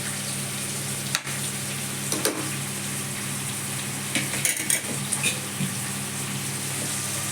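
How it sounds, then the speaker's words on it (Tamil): Onions and green chilli sautéing in oil for a chicken gravy made with coriander and chilli masala, a loud continuous sizzle with a few sharp stirring scrapes and clinks and no speech. "சிக்கனுக்கு வெங்காயம் வந்து நல்லா வதங்கினதுக்கப்புறம் கூடவே வந்து ஒரு பச்சை மிளகாவும் போட்டுட்டேன்."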